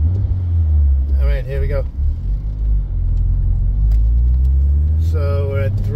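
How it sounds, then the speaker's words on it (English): A car engine rumbles close by at a low, heavy pitch, then climbs toward about 3000 rpm while the car pulls off behind traffic, and someone speaks briefly over the steady drone. "Right now revving it up to 3 grand."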